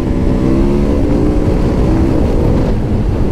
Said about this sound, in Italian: Guardiamo un attimino il motore senza traction attivato cosa fa.